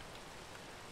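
Rain in the blocky video game Minecraft, a short, even wash of soft falling-rain hiss, steady and fairly faint with no voices.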